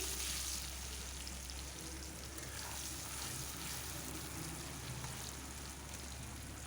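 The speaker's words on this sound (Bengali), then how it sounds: "পেঁয়াজটা আমি 2 মিনিট মতন ভেজে নিচ্ছি" Chopped onion frying in a pan after whole cloves, cinnamon and bay leaf, a faint, even hiss of oil that stays steady throughout, with no talk.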